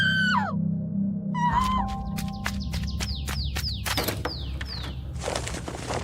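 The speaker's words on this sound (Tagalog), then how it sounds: "makarinig kami ng malakas na sigaw ng isang babae" A woman screams loudly in a Filipino drama scene, a shrill falling cry at the start, followed by a series of sharp, piercing whistle-like cries and sweeping shrieks over a steady low hum.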